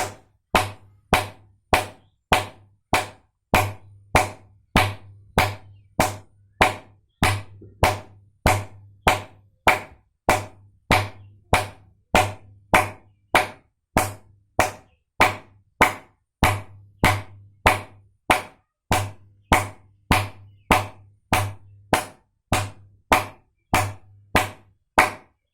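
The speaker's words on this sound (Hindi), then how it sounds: "इस प्रकार से आपको ताली लगाना है ऐसे।" Bare hands clap firmly and steadily, about two claps a second, as a repeated therapy exercise. The claps are close and loud, with no talk.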